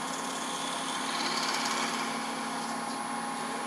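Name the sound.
hand drill drilling wood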